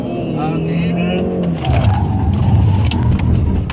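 A Honda Civic accelerates hard on a track, the engine note rising loud and close from a steady drone into a stronger, rougher roar midway, with people talking in the cabin over it.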